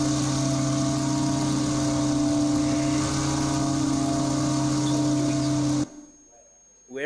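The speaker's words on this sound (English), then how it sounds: "that was the loud noise of the V8 car engines" Loud, steady engines rumble and drone for several seconds at close range, then cut off abruptly, leaving near silence before a brief return.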